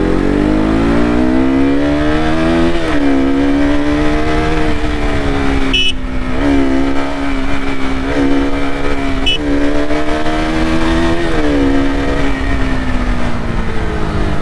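A modified KTM RC 200 motorcycle engine drones loudly and continuously while riding, its pitch climbing and dropping through several revving cycles, with steady wind rush and no speech.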